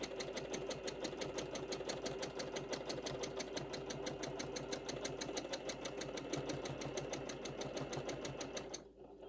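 A sewing machine stitches free-motion quilting designs in a continuous, steady, fast mechanical whir with regular needle clicks, close and loud, running alone for nearly the whole stretch before stopping abruptly.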